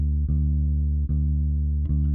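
A single bass guitar note left ringing unmuted, sustaining steadily and loudly throughout, with three light string or finger touches briefly interrupting it.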